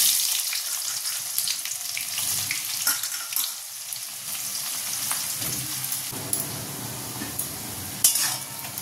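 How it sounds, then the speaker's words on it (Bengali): Chopped onions sizzle and crackle in hot oil with dried red chillies, bay leaf and whole cumin, a close, steady frying hiss broken by stirring scrapes and clicks. "ফোড়নটা ভাজা হয়ে গেছে, এবার এর মধ্যে দিয়ে দেবো কেটে রাখা পেঁয়াজ"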